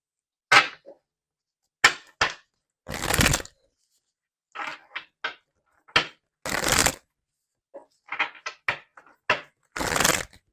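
Tarot cards are shuffled in several short, crisp bursts of riffling and snapping, close to the listener, with silent gaps between each shuffle.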